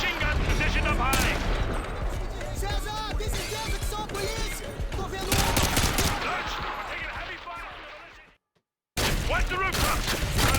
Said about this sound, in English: we're taking heavy fire from the militia here